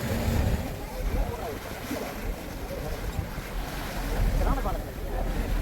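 A boat comes in to land passengers at Nainativu island, with waves and water sloshing against the hull, steady wind rumble buffeting the microphone, and a low engine drone throughout.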